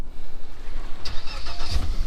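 Suzuki outboard boat engine cranking and catching on a single key turn, a short close burst of starter whir turning into an engine note, loud and alone.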